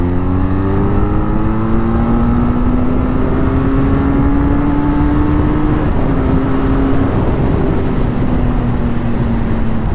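A Benelli Leoncino 500 motorcycle, a 500 cc bike, revs hard toward the top end of its range; a loud, close engine roar climbs steadily in pitch, then eases slightly, continuous throughout without talk.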